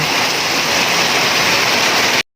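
Heavy typhoon rain pours down in a dense, unbroken roar, loud and close, cutting off abruptly near the end.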